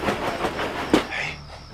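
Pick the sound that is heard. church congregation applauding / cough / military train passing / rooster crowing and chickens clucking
military train passing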